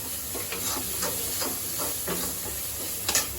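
Onion fries in a pan with a soft, steady sizzle and faint stirring scrapes, with a brief louder clatter near the end.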